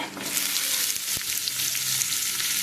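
Onions frying in a pan with tomatoes added, a steady close sizzle with a brief stirring scrape partway through, no talking.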